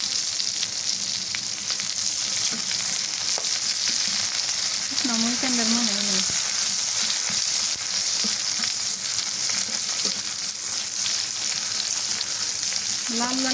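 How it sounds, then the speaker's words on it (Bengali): Sliced onion, garlic, black cumin and bay leaf fry in hot mustard oil, giving a loud steady sizzle, with a brief wavering vocal-like sound partway through. "পেঁয়াজ ভাজা হয়ে গেছে হলুদের গুঁড়ো দিয়ে দিই"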